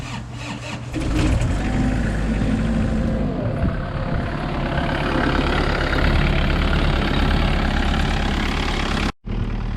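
A heavy diesel engine on a Kubota KX121-3 excavator rumbles steadily at idle after a fuel pump change, deep and close, holding a constant low drone before a brief cut near the end.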